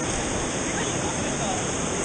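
Rushing current and waves of the Sorachi River roar steadily around a paddled boat, a dense, continuous broadband wash heard close up with faint voices mixed beneath.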